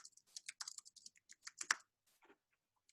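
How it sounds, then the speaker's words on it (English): Keys clatter in a rapid, uneven burst of typing on a computer keyboard as an email subject line is entered, close and fairly quiet, trailing off into a few scattered taps. "I'm going to write my subject line here."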